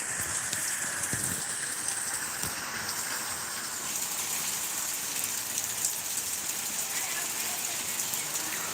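Steady rain falls on a surface with a dense, even hiss and scattered drops, a summer downpour heard up close with no one speaking.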